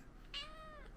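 A cat gives one faint, drawn-out meow with a rising then falling tone, heard from a little distance over quiet outdoor background noise at a lakeside picnic in Berlin.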